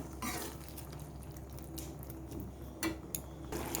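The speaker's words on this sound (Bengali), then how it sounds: "বাটিটা দিয়ে আরও কিছুটা জল দিয়ে দিলাম" Water trickles and drips from a bowl into a pan of soya chilli, soft and close, with a few brighter splashes breaking a faint, steady kitchen background.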